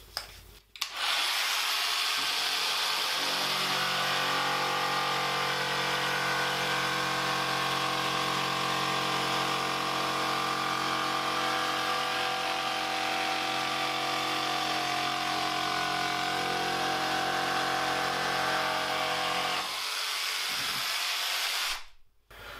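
An electric jigsaw, guided from underneath, whines continuously for about twenty seconds as it cuts through wood, starting and stopping abruptly, loud and close with no talking.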